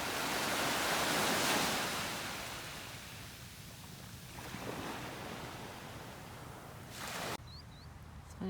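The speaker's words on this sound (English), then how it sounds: "I'm just going to let you enjoy the sounds of the ocean" Ocean waves at Delray Beach, Florida, wash in with a broad hiss that swells and fades, loud at first and then receding into softer surf.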